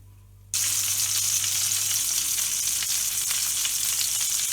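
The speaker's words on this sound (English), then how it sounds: "The frying in the back is my duck breast" Steady, loud sizzling of duck breast frying in a pan, starting abruptly and continuing unbroken with a faint low hum underneath.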